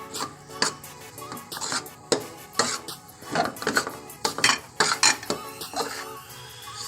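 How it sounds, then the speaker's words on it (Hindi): Almonds and cashews being mixed in a pan, giving a rapid series of close metallic scrapes and clinks of a spoon against the pan in irregular bursts, with no voice. "बादाम डालें, काजू डालें, इनको साथ साथ मिक्स करते जाएं।"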